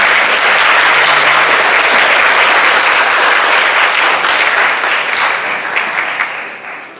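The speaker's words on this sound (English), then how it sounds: "Let's give these students a hand." Loud, dense applause from an audience at a middle school eighth grade awards ceremony, sustained and close, tapering slightly toward the end.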